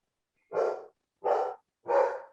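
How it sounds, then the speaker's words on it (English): A dog barks three times indoors, evenly spaced sharp barks with silence between, fairly close and clear. "My dog is barking."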